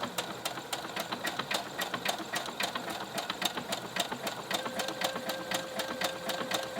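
A domestic sewing machine running steadily as it stitches a buttonhole on a skirt, giving a close, even, rapid rhythmic clatter with a faint whine under it and no talk.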